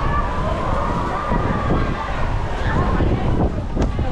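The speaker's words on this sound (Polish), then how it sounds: "Syreny wyją" Sirens wail along a street in Zakopane, rising and falling through steady wind buffeting on the microphone, with people talking nearby.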